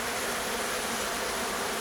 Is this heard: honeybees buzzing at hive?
yes